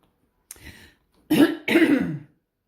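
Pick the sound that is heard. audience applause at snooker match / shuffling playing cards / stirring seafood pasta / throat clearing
throat clearing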